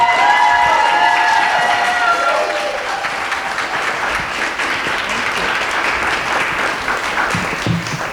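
An audience applauds and cheers for a design fellow taking the stage: dense, loud clapping with whoops and shouts for the full stretch, easing slightly after the first couple of seconds.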